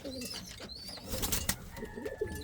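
An older Indian fantail pigeon with a crest coos in soft, repeated low calls close by, with faint chirps and light background noise and no talk.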